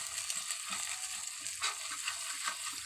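Buro, fermented rice, sizzles steadily in a pan as it is stirred constantly, a dense bright frying hiss with soft, regular scraping strokes underneath, close and continuous without any voices.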